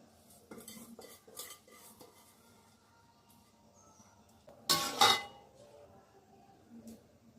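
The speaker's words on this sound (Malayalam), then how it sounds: "നമുക്ക് കുതിർത്ത് വെച്ച് അരി ചേർക്കാം" Metal utensils clink against a pot of boiling water, then a short, loud rush and splash as soaked rice for biryani is poured in, followed by quiet shuffling.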